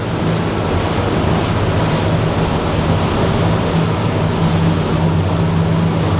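A Grady White 307 boat, 2024 model, swings through a hard, tight turn on open water, its outboard motors churning beneath a steady, loud wash of surf-like spray and wind noise with no voices.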